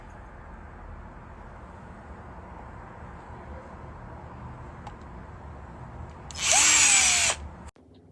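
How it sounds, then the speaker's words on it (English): A short, loud whir of a power drill spinning up for about a second against quiet background hum, then stopping abruptly. "She has her drill and she's ready."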